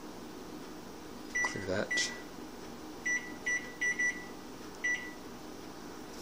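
An electronic timer gives a series of short sharp beeps as it is set, about half a dozen in an uneven rhythm after a brief rustle, over a quiet room hum, with a few spoken words.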